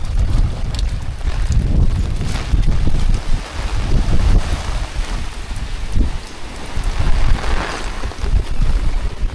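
Strong Typhoon Opong wind buffeting an island, a loud steady roar with gusty rumble and rain-like hiss, constant and close with no voices.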